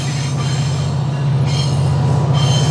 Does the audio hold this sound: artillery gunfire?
no